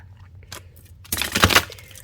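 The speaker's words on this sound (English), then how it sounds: "Let's get this nice shuffle here." Tarot cards, a Queen Alice Tarot deck, riffled and shuffled by hand: a brief flick near 0.5 s, then a denser papery burst of card slaps and rustle lasting about half a second, close and fairly loud.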